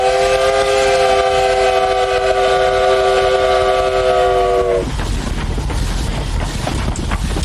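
A Sumpter Valley Railroad train in Oregon sounds a long, loud multi-tone horn for several seconds, then the horn cuts off, leaving rumbling rail and engine noise.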